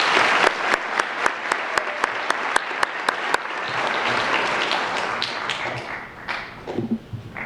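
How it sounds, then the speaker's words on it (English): Audience applause at a middle school promotion ceremony: a few sharp, separate claps open it, then dense sustained clapping from a crowd fills the room and fades near the end. "I'd like to give Mr. Harris, the administration, and faculty a round of applause."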